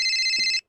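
A mobile phone rings inside a video game, a bright electronic warbling tone that holds loud and steady for a moment before cutting off abruptly.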